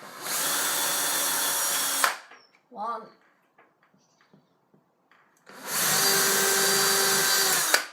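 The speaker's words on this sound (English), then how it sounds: "now we have the marks for our drilling, and that's the next step." A power drill bores holes for fitting a Roman blind in two loud, steady bursts of about two seconds each, separated by a quiet gap in which a voice briefly speaks and soft handling noises occur.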